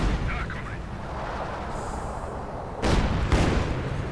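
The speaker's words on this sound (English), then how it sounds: "field gun firing away" Field gun firing in Company of Heroes 2, two sharp booming blasts in the latter half over a continuous bed of battlefield noise and distant gunfire.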